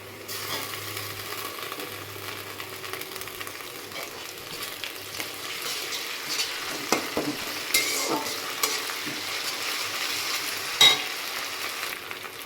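Onions browning with ginger-garlic paste in a pan for a Bengali fish dish, giving a low continuous sizzle and occasional stirring clicks and scrapes. Close, quiet and steady, with no voices.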